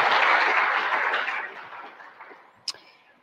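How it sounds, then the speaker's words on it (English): An audience at a money and finance panel event applauds as a guest is called to the stage, a dense wash of clapping that starts loud and gradually thins and fades, with one sharp louder clap near the end. "Let's have a little applause for her."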